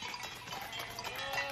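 A flock of sheep let out of their pen to graze in the countryside, a faint, distant mass of bleats and milling animals with a steady low outdoor wash and no talk.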